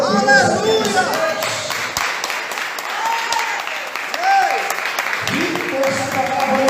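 Church congregation applauding steadily for several seconds, dense broadband clapping with voices calling out over it and a loud preacher's voice rising at the end.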